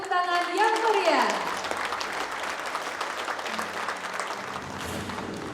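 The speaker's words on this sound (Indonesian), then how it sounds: "Boleh kita berikan tepuk tangan yang meriah" Audience at a national congress event breaking into sustained applause, clapping filling the hall after a voice finishes speaking at the start.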